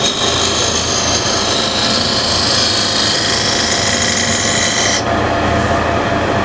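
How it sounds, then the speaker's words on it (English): A scraper cuts a ball shape in wood on a lathe, giving a loud continuous close-up rasping hiss that stops abruptly near the end, leaving the lower hum of the spinning lathe. "Now I can use again scraper."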